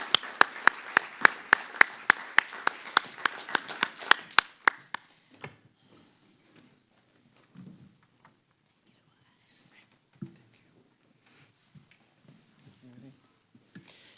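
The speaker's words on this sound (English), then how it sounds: "Let's give them a round of applause." A short burst of clapping from a small group at a realtors' association gala, steady and brisk, then fading into quiet room noise with a few scattered knocks and shuffles.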